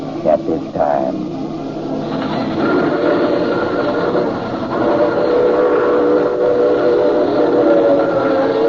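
Old-time radio drama sound effect of a train running steadily and loud throughout, with a couple of whistle-like tones near the start over the continuous rumble and clatter.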